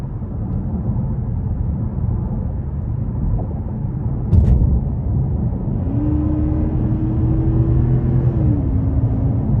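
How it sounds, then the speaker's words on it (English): A 2021 Genesis G90 5.0-litre V8 engine in sport mode drones steadily from inside the cabin, its pitch rising smoothly through a long pull before easing back slightly, with no talking. "this is a 5-liter V8, and even in sport mode, the revs aren't really high"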